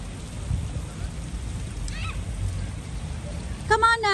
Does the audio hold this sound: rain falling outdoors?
yes